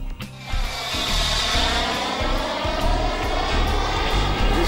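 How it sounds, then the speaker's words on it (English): An RC model BDM F86 Sabre jet with a PST 600 turbine roars steadily at an airfield, a loud continuous whooshing turbine howl with a faint whine, heard close without talking. "This is a beautiful BDM F86 Sabre powered by a PST 600."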